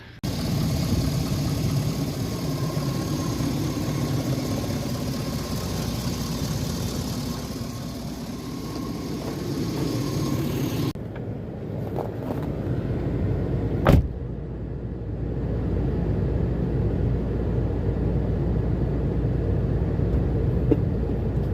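A 2004 Chevrolet Avalanche Z71 truck runs with a steady low engine rumble throughout, briefly dipping around a door-like clunk and a sharp click midway before the idle drone resumes, with no talking.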